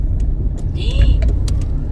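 Steady low road rumble inside a car crawling through dense traffic, constant and close, with a few brief higher clicks and tones over it.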